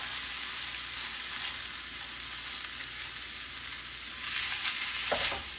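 Rinsed jasmine rice sizzles softly in a jambalaya pot as it toasts, a steady frying hiss with faint scraping as the grains are pushed around, and a brief louder stir near the end.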